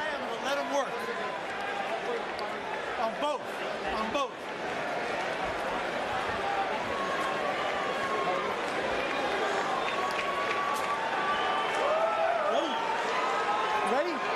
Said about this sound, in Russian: Вы слышите реакцию публики